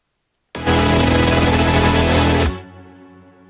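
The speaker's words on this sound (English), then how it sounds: "I'm just slowly turning down the LFO speed so it sounds like this" Synth chords shaped by an LFO wave come in loud and sustained, the LFO speed slowly lowered, then cut off abruptly into a quiet decaying tail.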